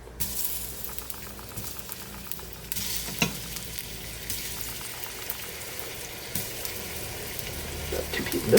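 Beef browning in a hot pan for a stew, a continuous sizzle with scraping and stirring noises, a few sharper clinks, and faint background sounds.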